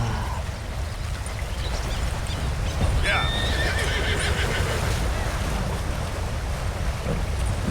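A horse whinnies near water in a video game, the neigh rising briefly over steady ambient noise and a constant background of game sound and voices.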